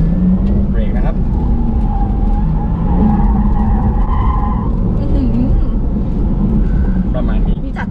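A Porsche Taycan Turbo brakes hard into a corner on a race track, its tires squealing and skidding in a long wavering screech over loud road and motor noise, with people talking throughout.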